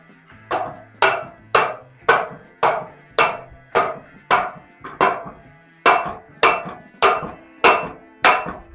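A hammer strikes a 1932 Ford hot rod axle into the differential in about fifteen evenly spaced, sharp metallic blows, loud and close, with no talking.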